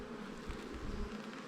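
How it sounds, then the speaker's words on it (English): Honey bees buzz steadily at an opened hive during an inspection, with newly emerged bees crawling out of their cells; the dense, close hum stays even and continuous throughout, with no talking. "What's cool is when you get in there and there's bees coming out of that"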